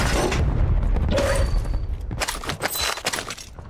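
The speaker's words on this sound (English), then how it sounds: "I have, 2 precision airstrikes." Precision airstrike explosions in Warzone land as heavy booms followed by shattering debris and scattered crackling impacts, loud and close, with no voices.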